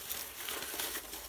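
Sheet of paper being crumpled by hand during a blindfolded craft challenge, a dense crinkling rustle lasting about a second, close and fairly quiet, with no talking.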